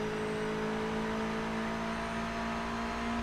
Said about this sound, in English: I like this wow that the engine does when it goes into quad.